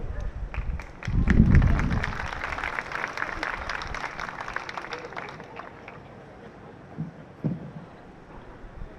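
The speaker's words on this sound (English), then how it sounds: "Big round of applause for our steering committee right here" A crowd claps for the steering committee at an LA STEM event. Full, loud applause rises early on, then thins to scattered claps near the end, with no talking.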